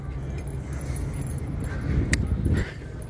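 A dog barks and whimpers in a parking garage during a walk, with short yips over a steady hum of traffic and echoing space, plus faint jangling.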